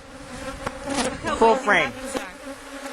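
Honey bees buzz steadily in an open small-cell hive box, massed on the top bars, a close, droning hum with rising and falling whines as individual bees fly past, while a voice speaks briefly over it.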